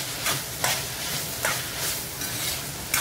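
Ground spices, including garam masala and black pepper, sauté in hot oil while being stirred for chilli paneer, a steady sizzle broken by several sharp scraping strokes of the spoon against the pan.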